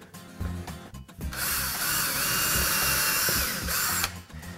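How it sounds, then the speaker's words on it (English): A power drill with a 1/16 inch or smaller bit bores a pilot hole into a wooden wall stud, a loud steady whine lasting about three seconds between short bursts of softer handling noise. "Now I'm going to pre-drill them with a 1/16 inch or smaller drill bit."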